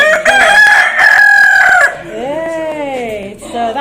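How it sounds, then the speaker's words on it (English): A rooster at a rare bird breeder's in the Gambia crows loudly and close by, one long harmonic call followed by a second shorter crow, with no talk over it. "So that one's got a loud crow."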